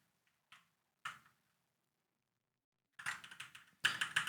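Computer keyboard typing, a couple of isolated keystrokes followed by a short burst of quick taps, close and quiet, with no talking.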